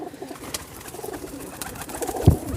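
Cooing from high-flying pigeons, Teddy and Golden breeds, in a breeding loft setup: soft, fairly faint coos and bird calls over a rustling background, with a slightly louder burst near the end.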